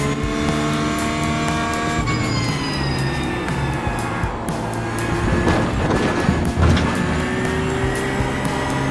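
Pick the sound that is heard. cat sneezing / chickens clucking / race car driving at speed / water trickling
race car driving at speed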